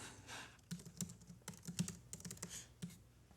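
Keys clatter on a computer keyboard in a quick, uneven run of close, crisp taps, ending with a firm press of the Return key, quiet and with no voices.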